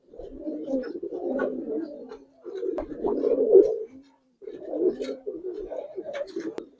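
Giribaz pigeons coo in rounded, throaty bursts, several birds calling in overlapping phrases with short pauses between, close by and fairly loud.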